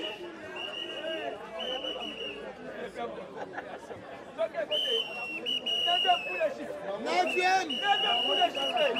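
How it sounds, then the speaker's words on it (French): A referee's whistle blows several times in short and longer blasts over a noisy, chattering crowd at a Congolese wrestling match. "Neuvième coup de sifflet."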